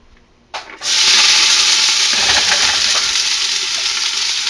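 A sudden loud sizzle erupts as root vegetables hit a hot pan, then settles into a steady, bright hissing fry.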